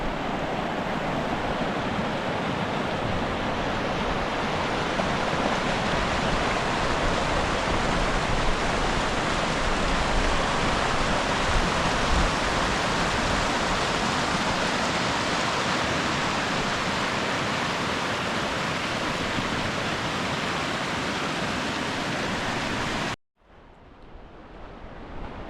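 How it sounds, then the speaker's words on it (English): A mountain creek near the Leavick, Colorado ghost town rushes steadily, a dense, loud, even roar of water that continues without voices and then cuts off abruptly near the end. "because of this rushing water"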